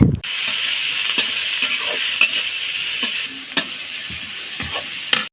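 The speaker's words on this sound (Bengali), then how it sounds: "এরপর দিয়ে দিচ্ছি কেটে রাখা পেঁয়াজ, রসুন এবং কাঁচামরিচ।" Onions, garlic and green chilies fry in hot oil in a wok with cinnamon, cardamom and bay leaf, a loud continuous sizzle punctuated by regular scraping stirs of a spatula, close up with no voices.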